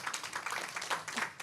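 Soft applause from a gathered audience, a brief burst of quick overlapping claps, faint and somewhat distant.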